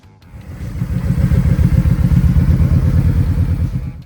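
A 2025 Kawasaki Vulcan 1700 Voyager touring motorcycle's V-twin engine rumbles close by, swelling from quiet to a steady, loud, throbbing idle-to-rev pulse for several seconds before easing off.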